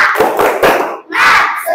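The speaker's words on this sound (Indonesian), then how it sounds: "Oke, tepuk semangat." A primary school class claps in rhythm, sharp hand slaps at a steady beat mixed with voices shouting together in Indonesian, loud and close.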